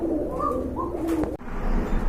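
Domestic pigeons in a collection of fancy and local breeds coo close by, a few low throaty murmurs rising and falling over a steady background hum before a brief break.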